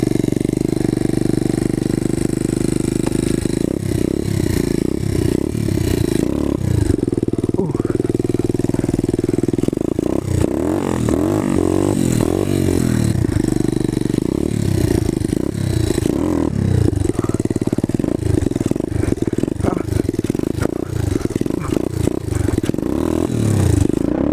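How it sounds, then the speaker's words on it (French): A new dirt bike's engine revs hard in repeated rising and falling bursts during wheelies from a standstill, loud and close throughout with a steady mechanical drone between pulls. "je vais vous faire des wheelings en départ arrêté"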